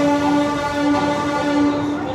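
A DEMU train pulls into Guntakal Junction, its horn holding a loud, steady, tonal blast close by over the rumble of the railcar.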